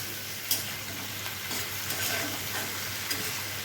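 Homemade chili sauce mixture stirred and frying in a pan, a steady close sizzle with a few scraping spoon strokes, no talking.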